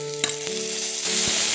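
Ginger paste frying in a pan for a Bengali crab curry, giving a steady close sizzle with a couple of sharp clinks from a spoon against the pan.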